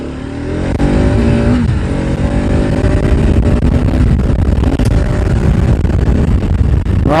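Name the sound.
Bajaj Pulsar RS 200 motorcycle exhaust revving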